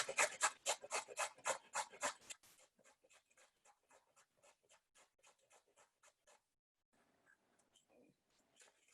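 Food scraped on a hand grater in a home kitchen, a fast run of loud rasping strokes that then slows into softer, spaced scrapes, close and alone.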